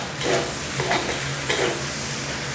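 Rice stir-fried with dark soy sauce in a hot pan makes a continuous loud sizzle with scraping stir strokes at a steady pace, and no voices are heard.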